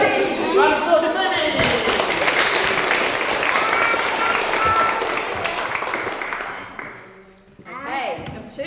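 An audience at a school leavers service claps for a pupil, a dense, sustained round of applause lasting several seconds with a few thumps and crowd chatter, fading briefly near the end before voices resume.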